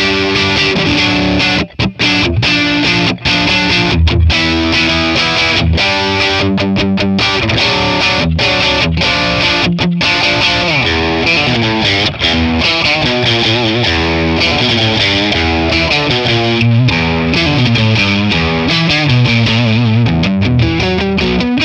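A heavily distorted electric guitar through a Matchless Laurel Canyon amp, dimed on the bright setting, plays loud, bright chords and riffs continuously, with a few brief stops between phrases.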